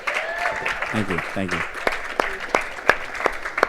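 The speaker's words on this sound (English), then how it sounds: "Can we give Coach a round of applause for that?" A small audience claps for a Southwestern University football coach, a short burst of scattered handclaps that thins into a few separate claps, while someone speaks over the start and thanks them.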